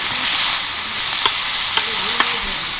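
Veg biryani masala frying in a pan, a dense close sizzle with faint stirring clicks, loud and steady throughout.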